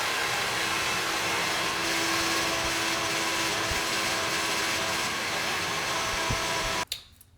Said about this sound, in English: I actually just take a few minutes and dry out my hair